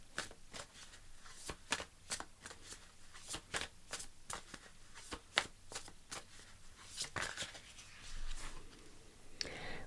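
Oracle cards being shuffled and pulled from the deck during a tarot-style reading, a steady run of crisp riffling flicks and slaps up close, with a softer rustle near the end.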